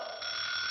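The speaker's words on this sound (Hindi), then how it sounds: "अरे सुबह सुबह ये अलार्म क्यों बजने लगा?" An alarm clock rings in the morning with a loud, steady electronic tone that holds without a break for the whole short moment.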